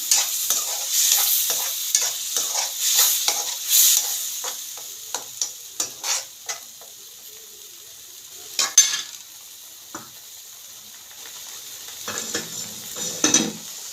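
Ginger, garlic and tomato paste frying in a pan for a mutton-style sundal curry, with steady sizzling and repeated scraping stirs of a spoon, a few sharper clinks against the pan, quieter toward the middle.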